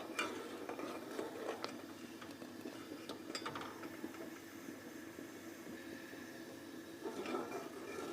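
Sugar is stirred into milk in a pot for homemade vanilla ice cream, producing soft scraping strokes and occasional light metallic taps of a spoon against the pot, faint and steady with no talk.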